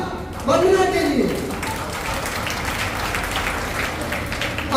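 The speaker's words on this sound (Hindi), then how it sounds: "तो आपसे अनुरोध है कि फिर से एक बार तालियां" Audience applause at a fifth-anniversary function with a short play, held by Prabuddh Seva Sansthan: a steady wash of clapping lasts the whole stretch while a voice rises briefly over it near the start.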